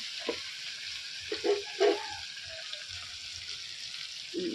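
Whole spices frying in a hot pan in a home Bengali kitchen, a steady broad sizzle running throughout with a few louder spits and crackles as they hit the oil.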